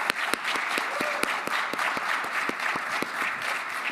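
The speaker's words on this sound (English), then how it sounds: "I want to give a huge round of applause." An audience at a PAX East 2025 competitive robotics talk claps steadily, giving dense, sustained applause with a few sharper individual claps standing out nearby, and a voice is faintly audible underneath.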